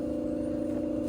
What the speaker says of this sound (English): Excuse the noise. My neighbor is over there trying to do something with his car